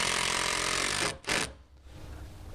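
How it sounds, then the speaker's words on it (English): A screw being driven at an angle into a wooden deck railing post with a power drill, a loud steady whirring drive for about a second, a brief pause, a short second burst, then quieter handling noise. "I did my angled toe screw from up top here"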